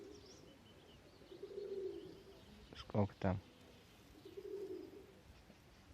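Mordovian piebald and Perm pigeons coo softly in two low, drawn-out calls outdoors, faint against quiet background noise, while someone briefly speaks nearby.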